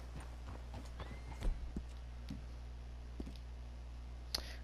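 Horse hooves clip-clop at a slow walk in the video game Red Dead Redemption 2, soft and fairly distant over a low steady hum, with sparse irregular hoof clicks.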